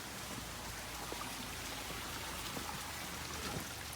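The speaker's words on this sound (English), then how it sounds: "I'll show you the rain chain fountain." Water trickles steadily down a rain chain fountain on a mountain garden terrace, a soft continuous patter and splash close by with no voices.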